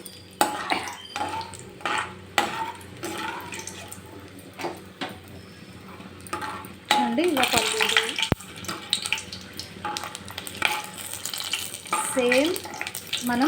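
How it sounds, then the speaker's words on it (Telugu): Garlic and peanuts fry in oil with a continuous close bubbling sizzle, growing louder partway through, while a voice talks over it. "అదే నూనెలో కొద్దిగా వెల్లుల్లి అలానే పల్లీలు కూడా వేయించుకుంటాం"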